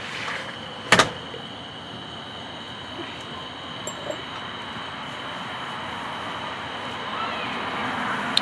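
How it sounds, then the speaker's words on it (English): A door being closed with one sharp bang early on, then a steady outdoor hum and faint rustling at night. "Just close the door."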